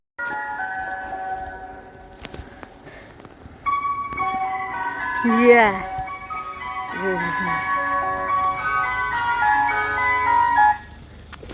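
An ice cream van in Exmouth plays its tinkling melodic chime at close range, growing louder midway and running almost to the end, with people talking over it.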